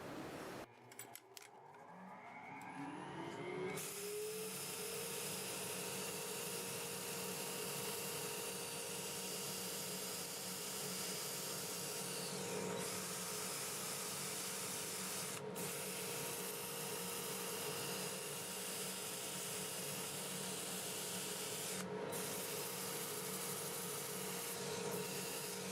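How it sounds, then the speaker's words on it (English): A dust collector starts up in a woodturning shop, its motor rising within a few seconds to a loud, steady whine and rush that holds for the rest of the stretch. "So I'm going to start my dust collector."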